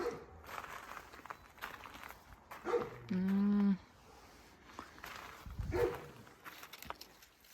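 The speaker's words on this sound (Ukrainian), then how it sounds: "Це Сусідський пес побачив, почув, точніше, що я хожу, то почав гавкати" A neighbour's dog barks a few times at a distance, with one longer drawn-out howl-like bark in the middle, amid quiet outdoor background and faint movement.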